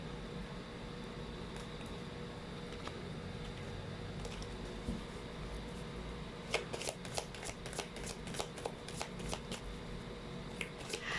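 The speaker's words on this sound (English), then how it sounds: "I just heard that while I was about to shuffle" A deck of cards is riffled and shuffled in quick bursts of crisp flapping, close by, following a stretch of quiet room hum.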